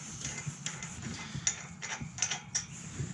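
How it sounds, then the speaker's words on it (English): A hand ratchet clicks in short bursts while loosening nuts from the bolts of a paddock gate, rapid metallic ticks repeating close by over steady outdoor background noise. "the next thing we do is we've got to take off these bolts, or nuts"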